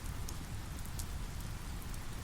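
Steady rain patters on a makeshift canopy sheltering a campfire beside a waterfall in the forest, a dense continuous hiss with scattered droplet taps, close and even throughout.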